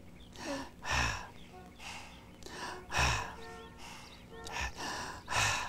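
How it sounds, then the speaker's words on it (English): Several slow in-and-out breaths come one after another, rhythmic and close, like deep relaxing breathing, with a faint voice in the background. "That's breathing."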